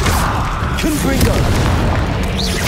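A Confringo blast spell goes off in a Harry Potter video game, a loud, booming burst that fills the whole short moment amid game noise, with voices shouting over it.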